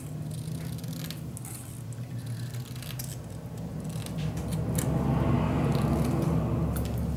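Scissors cut a line of rhinestones from a sheet for a mini album craft project, making faint snips and a light rattling rustle that grow a little louder toward the end, with no talk.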